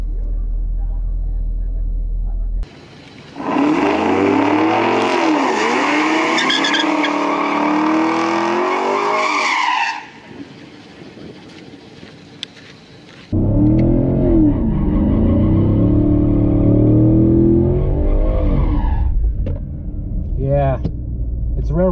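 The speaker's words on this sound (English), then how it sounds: "Kia Stinger GT, finally. These things are fast." A Kia Stinger GT, rear-wheel drive, laps a race track at a track day, its loud engine rising and falling through gear changes in two long pulls separated by a quieter stretch, with occasional tire noise.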